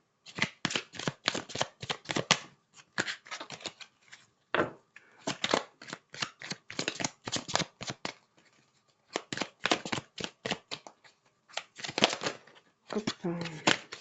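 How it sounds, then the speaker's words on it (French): Tarot cards shuffled and dealt by hand for a reading, crisp close riffles and flicking card snaps in quick clustered bursts separated by short pauses, with a spoken voice between them. "je vais sortir trois cartes et si besoin, je rajouterai des cartes supplémentaires"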